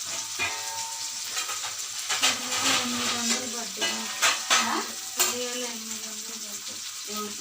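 Stuffed eggplant masala curry frying in a covered pan, a steady close sizzle with repeated scraping stirs and clinks of a spoon against the pan, some faint voices in the background.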